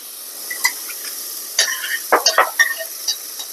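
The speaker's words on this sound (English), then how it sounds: "I've sauteed my onions for a minute" Diced onion sautéing in a pan for hibachi rice gives a soft, steady sizzle, broken by a few sharper crackles and scrapes that bunch together toward the middle.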